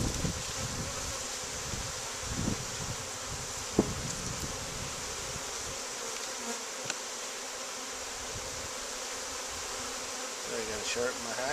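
Honey bees at an open hive during an inspection make a steady, dense buzzing swarm drone that fills the whole stretch at a fairly close distance, with occasional faint clicks and handling noises, and a voice murmurs quietly in places.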